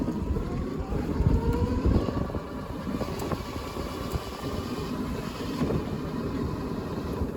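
Restored Sinclair C5 electric vehicle driving outdoors on a sunny day, with a steady low motor hum and road rumble under heavy wind buffeting the microphone, continuous and close throughout.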